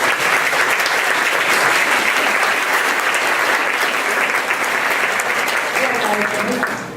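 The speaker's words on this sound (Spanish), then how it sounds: "le damos un fuerte aplauso al doctor" An audience at a keynote lecture claps loudly and evenly for the doctor who just spoke, a dense sustained burst that carries on for several seconds and eases slightly at the very end.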